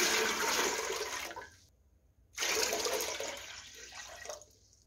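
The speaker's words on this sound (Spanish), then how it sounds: "Vamos a poner el agua." Water poured into a cooking pot for beef broth, a loud steady rushing stream that stops, falls silent, then resumes and tapers off, no voices.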